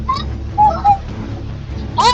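Bird cooing in the Roblox video game: a few soft pitched calls spaced apart, then a brighter burst at the end, over a low background, with voices partly in the mix.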